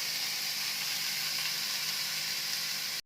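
Vegetables and legumes fry in a pan with an even, continuous sizzling hiss, close and moderately quiet, without talk, cutting off abruptly at the end.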